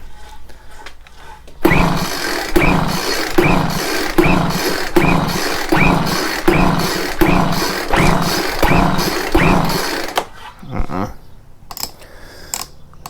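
A Craftsman blower engine with low compression is pull-started repeatedly, giving around a dozen rhythmic rope-pull chugs in a row without catching, followed by quieter handling noises.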